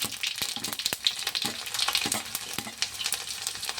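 Garlic hits hot oil with cumin and mustard seeds in a pan and crackles and sizzles sharply up close, with scattered pops and scraping stirs throughout and no talking.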